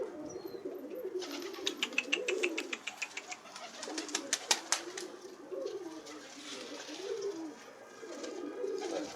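Pigeons coo in low, rolling warbles near a loft, steady throughout, with a fast train of light clicking or fluttering taps layered over the middle stretch.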